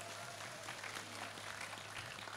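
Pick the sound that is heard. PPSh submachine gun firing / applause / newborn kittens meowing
applause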